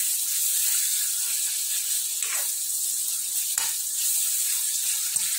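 Onions frying in oil in a pan, a steady broad sizzle that holds through the whole stretch, with a couple of brief louder crackles and stirring sounds; no one speaks.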